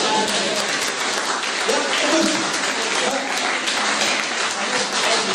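A church congregation applauds and cheers in praise during a French-language sermon, a dense, steady wash of clapping and acclaim that fills the whole stretch at close range, with voices mixed in.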